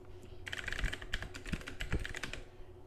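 Rapid keystrokes on a computer keyboard as a random password is entered into PGP encryption software, a close, steady patter of clicks lasting a few seconds with no voice.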